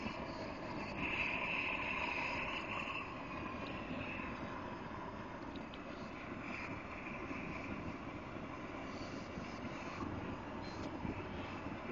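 A double propane burner roars steadily, a broad rushing noise that swells slightly at first and then holds even and close, with no talk over it.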